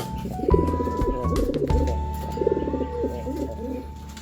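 Bokhara trumpeter pigeons coo in a loft, with a rolling, rapid series of low, burbling trumpeting calls close by, repeated in overlapping phrases.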